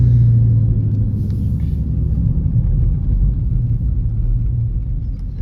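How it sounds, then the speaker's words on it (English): A Dodge 392 engine rumbles loud and close in sport mode on a rainy day, a deep steady low roar throughout with no clear rev peaks and no talking. "I'm gonna need a little bit of power to spin these tires for y'all"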